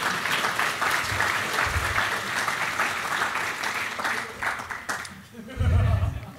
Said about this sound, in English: Round of applause for our robot!